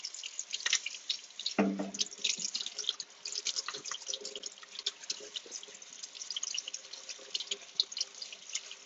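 Water runs from a tap as a skimmer cup is cleaned for a reef aquarium, a close, bright splashing stream with drips and a brief louder clatter early on, and no talk.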